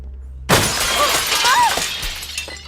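A glass pane shatters with a sudden loud crash, followed by a long spray of tinkling shards, while voices sound faintly in the background.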